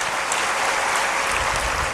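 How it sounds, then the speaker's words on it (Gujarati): An audience at a Ram Katha gathering gives loud applause, a dense and continuous roar of clapping at close range. "એક વાર જોરદાર તાળીઓ."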